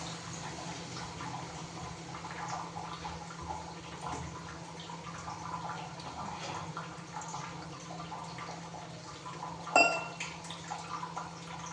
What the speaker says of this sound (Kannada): ಸೊ ಇವಾಗ ಅಜ್ಜಿ ಅದಕ್ಕೆ ಹುಣಸೆಹಣ್ಣಿನ ರಸ ಹಾಕ್ತಿದೆಯಲ್ಲ